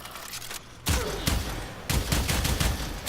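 A Kohm shotgun fires in the Warframe video game, loud bursts of rapid shots in two long stretches separated by short pauses.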